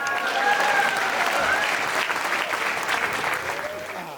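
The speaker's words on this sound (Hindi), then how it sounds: "तालियां बजाओ" An audience at a live Hindi comedy poetry show claps in steady, dense applause that holds throughout, with faint cheering or whistle-like tones and some crowd voices mixed in.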